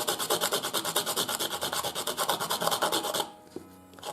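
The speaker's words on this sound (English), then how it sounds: "you should be able to sharpen your charcoal, compressed charcoal, nice and even, like that" A stick of compressed charcoal is rubbed back and forth against an abrasive surface, making a quick, even series of close, rasping scrapes that stop abruptly near the end.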